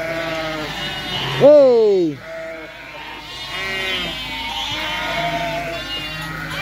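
Ewes on a farm bleat, one loud close cry standing out followed by a chorus of quieter bleats from the flock, with a person speaking over the scene.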